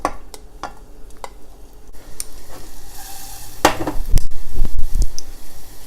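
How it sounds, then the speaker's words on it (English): Green onion, ginger and garlic stir-fried in sesame oil, with steady sizzling, scraping stirs and utensil clicks against the pan, growing louder and busier toward the end; no talking. "We'll just stir fry this a little bit until it's fragrant."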